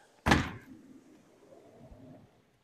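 A huge 12-foot-wide pocket door in the great room of a newly built Florida house opens onto a screened lanai: one sharp, close thunk, then a low rolling rumble that fades over about two seconds.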